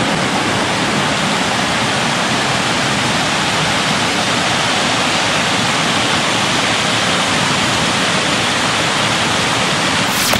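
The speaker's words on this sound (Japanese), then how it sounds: "小さい滝見つけたポンちゃん" A small waterfall on a mountain stream in the Bandai area, a steady loud close rushing and splashing of water that runs unbroken and alone for about ten seconds.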